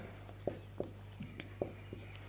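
Writing on a board during a Sanskrit translation lesson, faint scratchy strokes with several sharp taps as the marker or chalk meets the surface, spaced irregularly over a steady hum.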